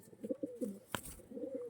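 Kaldama generation pigeons give soft, low coos in a few short rolling phrases, close by but quiet. A sharp brief knock or rustle cuts in midway, and there is no talk.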